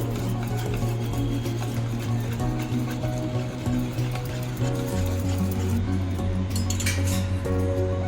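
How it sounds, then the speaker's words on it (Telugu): A spoon stirs ragi flour and oats in a steel bowl, making repeated light clinks and scrapes in a steady rhythm under a continuous low hum, growing brighter and busier toward the end. "వేసేసి దీంతో ఇక్కడ లంప్స్ లేకుండా బాగా కలుపుకోండి."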